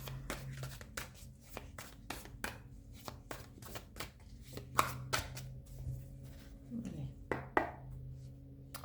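Oracle cards shuffled by hand for a love guidance reading: a rapid run of crisp, close flicks and slaps, fairly loud, over a faint low hum.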